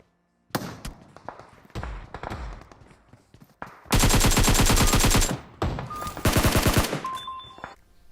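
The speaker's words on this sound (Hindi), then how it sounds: "मैं जल्दी जल्दी गोली चलाता हूँ" Rapid bursts of loud gunfire in the video game PUBG Mobile, several short volleys and then two long sustained automatic streams, close and punchy with brief gaps between.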